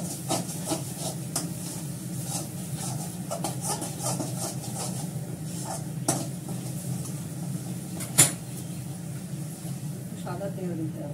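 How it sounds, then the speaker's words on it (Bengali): A spoon stirs and scrapes a cashew, poppy seed and garlic paste frying in oil and ghee in a pan, steady soft sizzling with periodic scraping strokes and one sharp clink, while a person talks. "নাড়তে হবে সবসময়, যেহেতু কাজু আছে, পোস্ত আছে, রসুনটা দেওয়া হয়েছে, রসুন বাটা"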